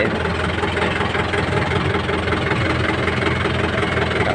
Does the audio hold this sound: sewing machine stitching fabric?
no